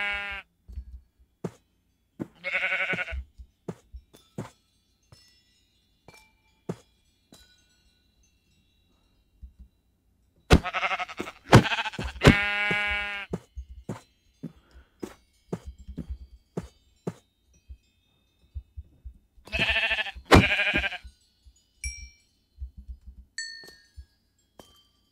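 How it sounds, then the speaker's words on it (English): Sheep in a video game bleating in short repeated bursts separated by silent gaps, with light clinking game sounds in between and no talk. "So if I get a sheep, and I spawn a sheep down here."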